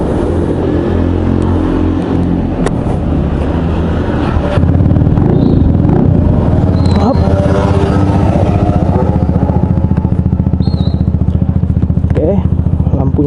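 Vespa GTS 150 scooter in Jakarta, its engine idling close with a steady low putter, then revving up and pulling away, the rumble staying loud throughout while someone talks over it.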